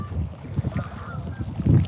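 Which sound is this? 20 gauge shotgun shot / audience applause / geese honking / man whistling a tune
geese honking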